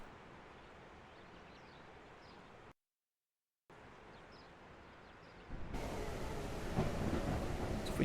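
A storm weather effect in the video game Cauldron Chronicles gives a low, muffled rumble of rain broken by a brief dropout, then swells into a louder, fuller downpour with rolling thunder.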